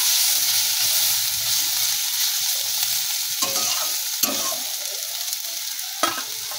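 Pointed gourd bhujia frying in a pan, a loud continuous sizzle with a few scraping strokes of a spatula stirring the vegetables, no talking.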